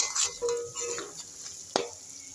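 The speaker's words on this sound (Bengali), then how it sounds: "তো আমি হালকা হিটে আমি চিকেনগুলোকে ভালো করে ফ্রাই করে নেব" Chicken pieces frying slowly over low heat, with a faint steady sizzle and occasional light scrapes, plus one sharp knock of a utensil against the pan.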